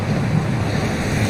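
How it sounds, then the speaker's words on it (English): Rushing waterfall in the game Hogwarts Legacy, a loud, continuous broadband wash of falling water with no breaks and no voices. "That waterfall washes away all enchantments."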